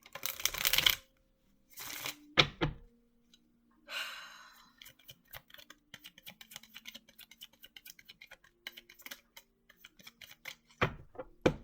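Tarot cards are shuffled, with bursts of riffling and a rapid run of papery flicks and taps, close and fairly quiet, with a sigh or breath in the pauses.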